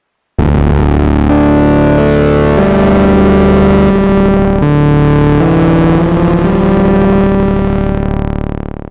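An Oberheim OB synthesizer with its distortion at 100% plays a loud, gritty sustained chord that shifts through several changes before slowly fading out.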